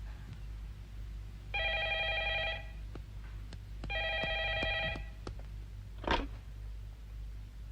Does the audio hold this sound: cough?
no